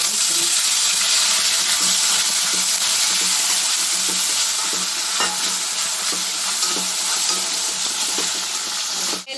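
Boiled chickpeas tossed into hot oil with spluttering cumin seeds for chana masala, a loud continuous close sizzle with crackling pops and occasional stirring clatter throughout, no voices.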